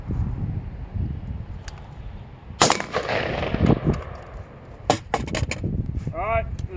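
A PSA 10.5 firearm fires sharp gunshots during shooting drills outdoors, a few loud isolated cracks followed by a quicker cluster of shots.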